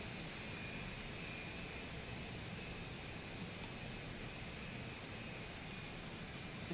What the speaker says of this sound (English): APU started. We'll bounce on the outside here. You'll be able to hear it.